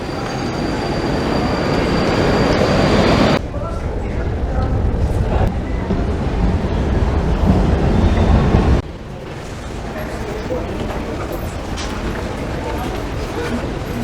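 Suburban trains at Leningradsky railway station in Moscow give off a loud, continuous rumble with squealing wheels, while a person talks nearby over the noise.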